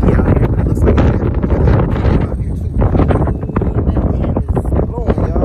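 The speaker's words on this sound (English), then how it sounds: "Ooh, that wind is blowing, y'all." Strong outdoor wind buffets the microphone at a public auto auction at a wrecker service yard, a loud, continuous roaring rumble with gusty fluctuations throughout.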